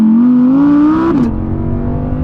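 An Audi R8 RWD sports car engine revs high and loud toward 8,500 RPM, pitch climbing steadily before dropping sharply as the throttle lifts, then settling into a rough idle.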